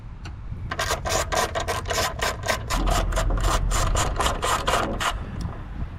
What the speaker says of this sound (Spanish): vamos a sacar los tornillos, los tres tornillos del soporte. Y para eso vamos a estar utilizando un dado de 9/16.